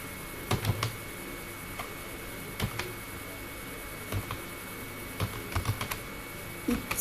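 Computer keyboard keys tapped in short bursts while typing a name into an MS Word document, close and fairly quiet, with pauses between clusters of clicks and no talking.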